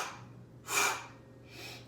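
Breathing during a Pilates exercise: a sharp, breathy exhale, then a softer second breath, close and quiet over a faint low hum.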